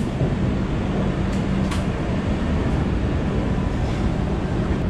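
The Taj Express train rolling out of Mathura toward Agra, a loud, steady rumbling roar of wheels and carriage noise heard close up, continuous and unbroken throughout.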